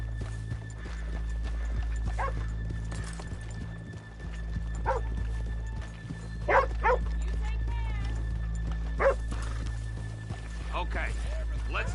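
Horses clip-clop and whinny in Red Dead Redemption 2 over a constant low background hum, with intermittent hoof sounds and calls and a dog barking faintly in the distance.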